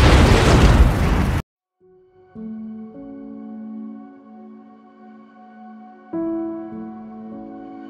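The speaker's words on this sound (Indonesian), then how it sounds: "malah menyaksikan ranjau itu meledak" A sudden loud landmine blast in a film bursts out and cuts off, followed by low, sustained ominous music tones.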